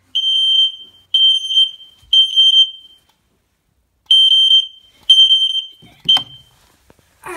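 Smoke alarm system test sounding a piercing 3000 hertz tone in short repeated beeps, a group of three, a pause, then more, loud and close, ending with faint handling noise.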